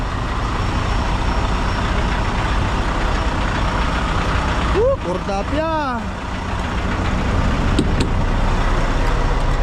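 A truck engine runs steadily throughout on a drive toward Montreal, Quebec, with road rumble beneath it and brief voices and squeaky tones partway through.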